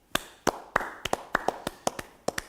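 A few people in a morning TV studio clap for the Junior Starlets, about a dozen sharp, separate hand claps in loose rhythm, close and dry.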